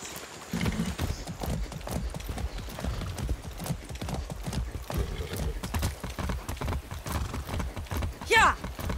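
Steady clip-clop of a horse's hooves in Far Cry 6, repeated hoofbeats close by with a brief whinny near the end, as someone speaks over the trotting.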